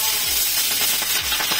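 Chopped onion sizzling in hot oil in a pan, a loud close bright hiss that runs throughout the short stretch with a few soft spits, no talking.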